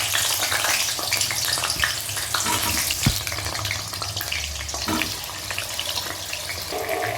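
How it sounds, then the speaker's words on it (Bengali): Potatoes fry in hot oil in a kadai, lightly salted while browning, giving a steady, loud crackling sizzle that runs close and unbroken throughout, with a few sharper pops and stirring clatters and no talk. "আলুটা একটু লালচে করে ভেজে নিতে হবে প্রথমে।"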